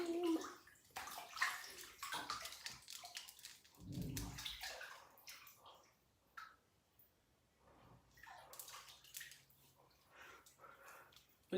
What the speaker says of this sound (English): We're going to start by washing our face, y'all.